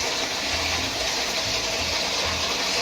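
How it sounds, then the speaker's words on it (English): Water gushes steadily into a mini washing machine, a continuous loud rushing flow close by with no talking. "now that my water is filled up here, I can stop the water from flowing."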